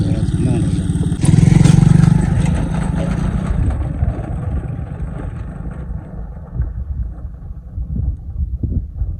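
A motorbike engine runs close by with a steady rumble, louder early on and then settling to a rougher idle amid wind noise outdoors on a mountain road, with someone talking over it.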